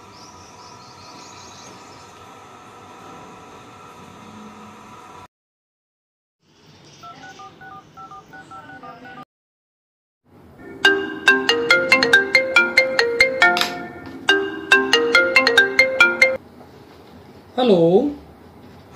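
A telephone call to a doctor is placed: a run of sharp keypad dialing tones, then loud repeating ringtone bursts, and a short final tone.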